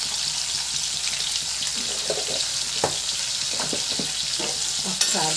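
Sliced bitter gourd frying with turmeric in a pan is stirred, giving a steady close sizzle with a few scraping strokes of a spoon and a sharp clank near the end.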